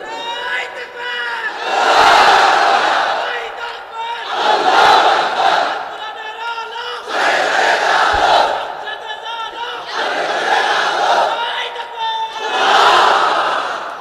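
A large crowd at an Islamic religious gathering shouts takbir in unison, with several loud, long group cries in a steady rhythm separated by brief pauses.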